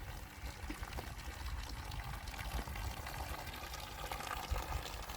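Mountain spring water flows out of the hillside in a steady, close, rushing splash that continues without a break, and no voices are heard.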